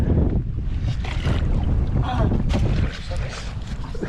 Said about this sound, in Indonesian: Kenceng banget angin ini.